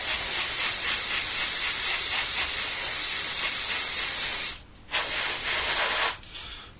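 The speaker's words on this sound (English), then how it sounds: "we'll just spray up anywhere in this area where I've got an idea it might be" Airbrush spraying paint onto a Trumpeter 1/32 F-8 Crusader model aircraft kit, a steady close hiss that drops out briefly twice before resuming.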